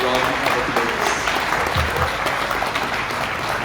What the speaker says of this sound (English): Let's please give the President of the Republic of Namibia a big round of applause.